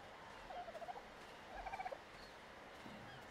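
Two quick bursts of rapid, warbling bird calls from dodo birds in a swampy video game world, each a short run of pulsing notes, fairly faint over a quiet ambient background, with a soft thud near the end.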